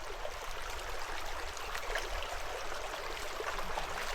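Water flowing steadily down a rocky stream at Thammarajupalle waterfalls near Kurnool, a constant broad rushing and gurgling wash heard alone, fairly close, with no talk.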